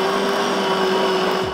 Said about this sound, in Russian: Пропускаю еще раз все через блендер